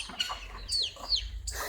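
Chicks and chickens cluck and peep close by in a few quick, bright calls over a quiet background, with no talking.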